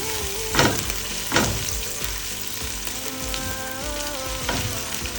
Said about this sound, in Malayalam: ഇത് രണ്ടും നന്നായിട്ടൊന്ന് വഴന്ന് കഴിയുമ്പോഴത്തേക്കും സവോള ഇടാം